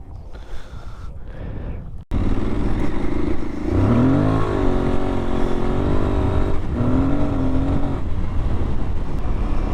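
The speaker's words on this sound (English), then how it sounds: "the thing I like about it most is the induction noise." An Aprilia Tuareg 660 motorcycle engine roars steadily with induction noise and wind rushing past, its pitch rising and falling as the rider works the throttle, close and loud throughout.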